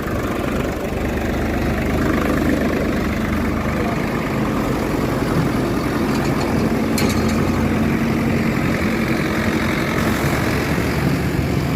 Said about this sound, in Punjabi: ਦੋ ਟਰੈਕਟਰ ਲਗਾ ਕੇ ਤੇ ਇੱਕ ਟਰਾਲੀ ਅੱਗੇ ਲਿਜਾ ਰਹੇ ਨੇ